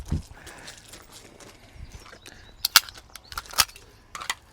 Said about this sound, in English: So I'm going to shoot one more time.